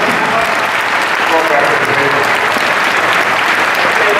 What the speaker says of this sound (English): let's get a big round of applause for our special guests here